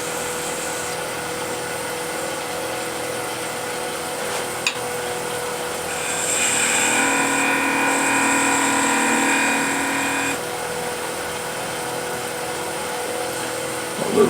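Wood spins on a lathe under a steady motor hum while a big skew chisel cuts, bringing a brighter scraping hiss for several seconds before it eases back to the hum alone.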